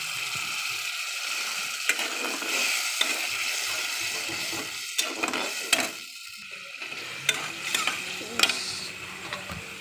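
Water added to frying masala in a pan, a broad hissing sizzle with scattered scraping and clicking of a spoon stirring, fairly close and continuous.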